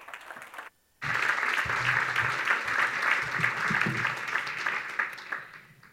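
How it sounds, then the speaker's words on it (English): A conference audience bursts into warm applause after a brief spoken introduction, with the clapping starting abruptly and staying dense and steady before tapering slightly at the end. "give her a warm applause"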